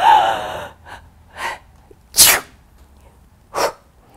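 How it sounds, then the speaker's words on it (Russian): A loud, sharp sneeze preceded by a sharp inhaled gasp and a couple of short breaths, alone in a quiet room. "Я сейчас чихну от книжной пыли."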